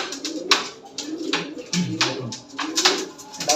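Fancy pigeons on a farm cooing, several low soft coos close by among rustling and flapping noises, with occasional faint chirps in the background.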